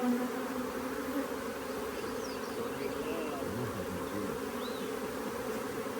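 Dense, steady buzzing of many honeybees hums continuously nearby from a hive, with individual bees whirring past now and then.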